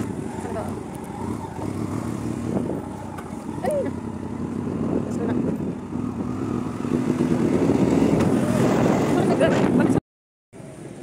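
A motorbike ridden on the road from Sarthebari to Kumarikata, its engine a steady low drone with wind rush throughout, while a rider talks over it and the sound briefly cuts out near the end.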